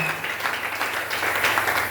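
A church congregation at a Sunday service applauds loudly together, a dense, sustained wash of clapping that fills the room throughout and is heard on its own.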